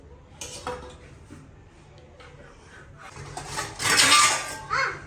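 Kitchen vessels and utensils being arranged, with soft scattered clinks that build into a louder cluster of metallic clatter near the end.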